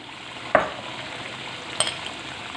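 Mustard seeds tipped into hot oil while cooking chicken karahi give a faint, steady sizzle, with two brief sharp clicks as the seeds hit the pan.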